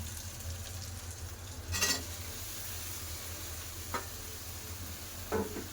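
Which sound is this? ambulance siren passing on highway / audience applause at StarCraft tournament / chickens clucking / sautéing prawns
sautéing prawns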